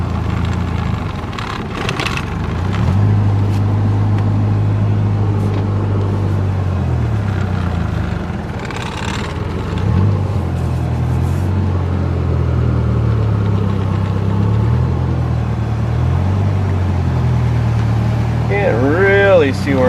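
A car engine idles and rumbles steadily nearby as the vehicle is backed slowly into a workshop, a low continuous drone with slight rises in revving, and a brief tonal squeal near the end.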